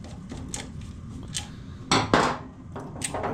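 The rim is worked off a poor-quality Royal Enfield motorcycle headlight: scattered close metallic clinks, taps and scrapes, with a couple of louder rattling clatters midway, over a faint background hum.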